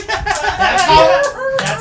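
Zombie seal clapping from the horror-comedy film Blood Diner: a few loose, irregular claps spread across the moment, mixed with voices and chuckling.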